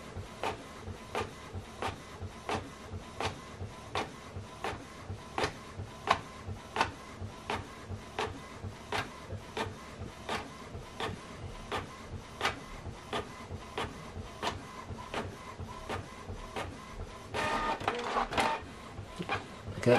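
Canon printer printing a document, its mechanism clicking and thumping in a steady rapid rhythm close by, with a brief louder whir of paper feeding near the end.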